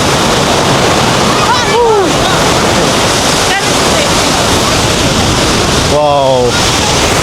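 The Rhine Falls in Switzerland roar loudly and continuously, a dense, close wash of churning water filling the whole clip, while a voice briefly exclaims twice over it.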